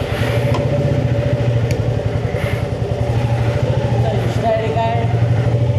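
A motorcycle engine runs steadily at the start of a long solo ride, a close rhythmic rumble that holds throughout, with a voice talking over it.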